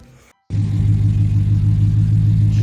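A 2012 Ram 1500 V8 fires up after a cam swap and settles into a loud, steady, close idle rumble, with a brief quiet gap just before it catches.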